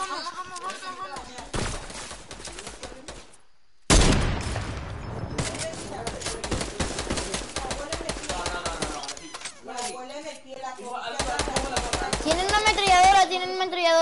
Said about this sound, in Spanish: Tienen una ametralladora.